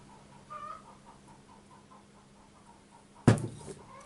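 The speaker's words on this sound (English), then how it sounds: "they just started again. Hens laying eggs." Hens clucking at egg-laying time, a soft repeated clucking in the background followed by a sudden loud knock or clatter near the end.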